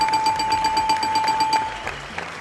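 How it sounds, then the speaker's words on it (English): A loud electronic buzzer sounds in rapid repeating pulses for about a second and a half, then stops, leaving quieter background noise. "Let me press the buzzer now"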